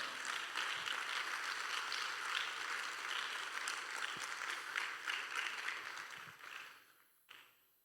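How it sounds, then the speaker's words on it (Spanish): A church congregation applauds in a soft, distant wash of clapping that holds steady, then thins and fades away near the end. "Dele fuerte el aplauso al Señor, hermano."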